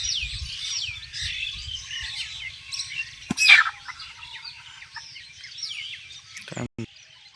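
A chicken that has just been punched lets out a sharp squawk midway, with a second brief cry near the end, over soft, continuous chirping and twittering from birds around it.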